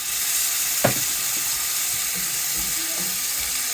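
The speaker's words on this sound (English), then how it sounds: "Deglaze with wine." A pan of onions and bacon with tomato paste sizzles steadily as wine is poured in to deglaze, a bright hiss with a brief clink of stirring in the middle.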